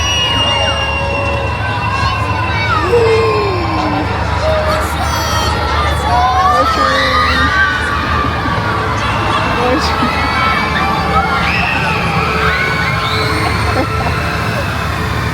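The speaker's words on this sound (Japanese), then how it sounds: "歓声が上がったの。" A crowd cheers and shouts inside the Louvre, a steady loud mix of many voices with whoops and higher youthful calls layered over constant hall murmur.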